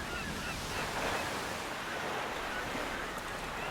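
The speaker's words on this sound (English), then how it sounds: "Night came. The wind swooshed. The waves sloshed." Wind and waves on the sea at night make a continuous, fairly quiet wash of rushing, sloshing noise with no breaks.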